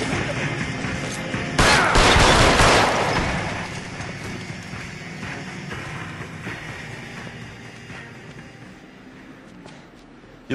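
Gunfire in the 1940s Los Angeles detective game L.A. Noire rings out as a loud burst of shots early on, then trails into a fading, reverberant rumble with scattered smaller impacts.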